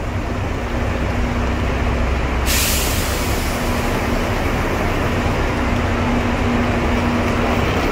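Buses idling at a bus terminal for Billion Star Express coaches, a steady loud engine and road rumble throughout with a sudden hiss of air brake release partway in; no talking.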